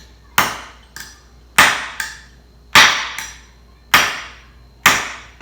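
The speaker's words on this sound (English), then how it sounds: "You're going to put this on the floor and you're going to bend the hinge pin just slightly." A door hinge pin is struck against a piece of wood on the floor, giving five sharp, loud metallic hammer blows, some with a quick lighter rebound tap, spaced about a second apart.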